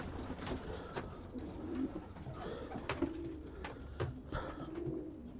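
Syrian flight pigeons, with some birds from Jordan, coo repeatedly in a loft. The low, throaty calls repeat at a steady pace beneath a busy background of rustling and faint chirps, and no one speaks.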